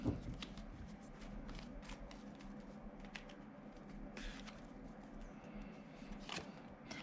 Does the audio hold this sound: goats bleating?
no